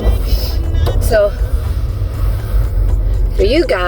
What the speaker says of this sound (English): It's the first time I drive this car in ice.